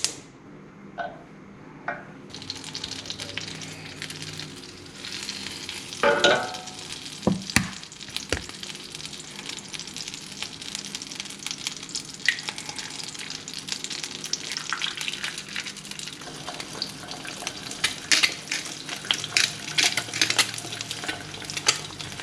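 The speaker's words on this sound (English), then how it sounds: "Here are my 2 fried eggs over medium" Two Happy Egg blue and brown heritage eggs fry over medium in a pan, a loud continuous crackling sizzle that swells after a quiet start, with occasional utensil clinks against the pan.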